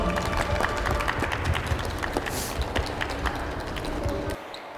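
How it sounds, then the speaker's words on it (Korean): Sustained applause from a seated audience at a talk concert on organ donation held with a hospital, a dense even wash of many hands clapping that fades out near the end. "다시 한번 큰 박수 부탁드립니다"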